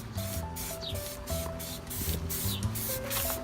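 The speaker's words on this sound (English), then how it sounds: "If there is imperfections in it, like spiders' webs and shit, just keep spraying it until they disappear" Spray gun applying white paint to a Ford Escort, a steady close hiss in repeated short bursts with brief pauses between passes, accompanied by faint rubbing and mechanical hum.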